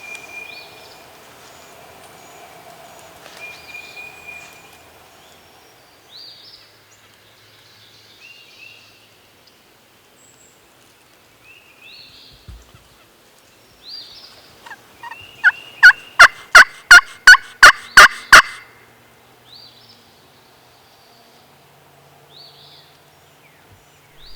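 Wild turkey gobbling on public land in Ohio. A distant, faint gobble comes early amid soft bird calls, and a loud, close burst of rapid rhythmic clucks or gobbles comes near the middle.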